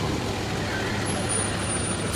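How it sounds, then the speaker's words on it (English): A truck passes along a road near Mayflower Beach on a summer day, giving a steady, close engine rumble and road noise for a couple of seconds. "I want to see this truck go by."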